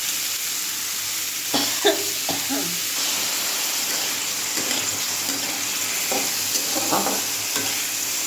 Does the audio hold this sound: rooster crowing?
no